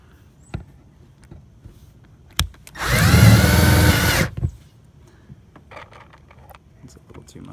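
A power drill drives a screw into the rubber gasket of a metal roof pipe boot in one loud whir lasting about a second and a half, with scattered faint knocks and clicks before and after.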